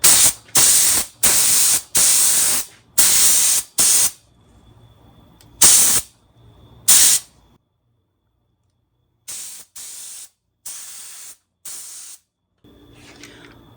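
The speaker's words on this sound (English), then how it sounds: "That way it's ready to spray." A cheap spray gun fed by a compressor set to 40 psi sprays paint in a series of loud, close hissing bursts of about a second each, with quieter pauses and short sprays later on.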